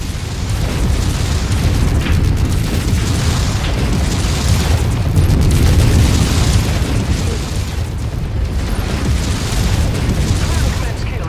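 A heavy explosion from a destroyed target in MechWarrior 5: Mercenaries set in 3031 during the Rise of Rasalhague, with deep, rumbling booms and bursts rolling continuously under loud battle noise.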